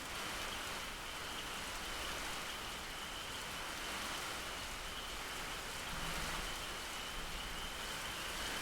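A steady, dense hiss of rainfall runs unbroken and even throughout, with no voices, added as a background effect beneath an audiobook reading of a Brothers Grimm tale.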